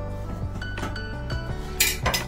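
A butter and all-purpose flour roux stirred in a pan with a metal utensil, giving repeated clinks and scrapes against the pan, close and moderately loud, with two sharper knocks near the end.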